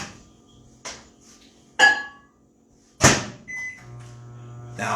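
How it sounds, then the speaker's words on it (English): Clunks and a door thud, then a short beep, followed by a microwave's low steady hum starting up, with no one speaking. "throw this in the microwave"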